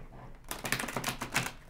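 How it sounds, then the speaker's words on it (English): A deck of tarot cards is shuffled nearby, giving a quiet, fast run of papery riffling clicks that rises after a brief pause and lasts about a second. "let's get going with the shuffling."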